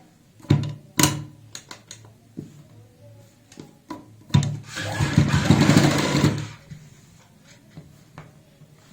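A domestic sewing machine stitches a seam on a homemade child's coat, running in short stuttering bursts and then one longer steady run, close and clear with no talking.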